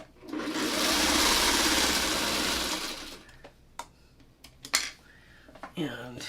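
A sewing machine stitches the side panel onto a handmade Asian lantern in a loud, steady whirring run of about three seconds, then stops, followed by scattered clicks and handling noises of the fabric and machine.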